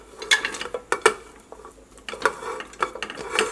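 Chopped vegetable pieces such as raw plantain and bottle gourd are tipped into a pressure cooker for Kerala-style avial, giving a run of close clattering knocks and scraping metal clinks in irregular bursts, with no talking.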